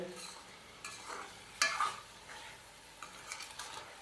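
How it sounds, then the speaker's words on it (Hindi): Chicken being stirred and fried with spices and tomatoes in a pan, a soft continuous sizzle with scraping spoon strokes, one sharper clatter midway, no talking. "चिकन की भुनाई कर लेंगे हम 3 से 4 मिनट इन मसालों के साथ"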